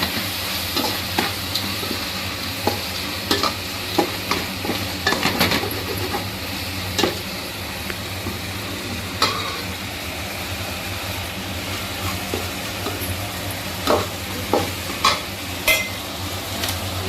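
Onions sautéing in a pan for a home Sunday cooking session, with a steady low sizzle and frying hiss and repeated scraping and stirring clicks of a utensil against the pan, all close by and with no talk.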